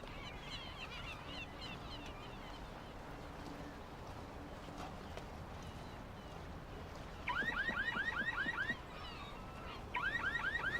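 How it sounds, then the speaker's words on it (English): A convertible's car alarm in the video game Black Mirror II blares in two loud, rapid warbling bursts over a steady ambient game background. "Convertible's alarm is going."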